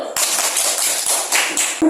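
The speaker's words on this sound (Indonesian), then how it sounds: "Tepuk tangan dulu" Children in a Christian religion lesson clap their hands together in a quick, close burst of overlapping claps that lasts about two seconds, with a few sharper individual slaps.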